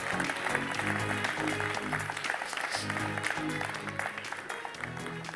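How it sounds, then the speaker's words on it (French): Studio audience clapping on a French television architecture program, a sustained, moderately quiet patter of many hands over a low rhythmic musical bed. "On peut les applaudir bien fort."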